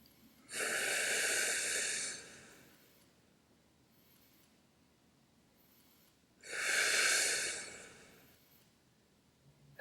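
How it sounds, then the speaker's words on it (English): Two slow, deep breaths during yoga, each a long, close, airy exhale lasting about two seconds, separated by quiet pauses. "Take a couple of breaths."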